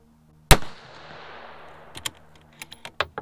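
A single sharp, loud rifle shot while testing a Vector Optics HUGO 4-16x44 GT scope, its echo decaying over about a second, followed by a few faint clicks and small handling knocks.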